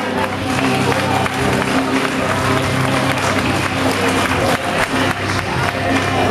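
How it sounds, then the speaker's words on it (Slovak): A crowd applauds and cheers steadily throughout as a referee is welcomed at a fighting event, with dense, sustained clapping filling the room and some voices mixed in. "Majko, privítajme ho potleskom."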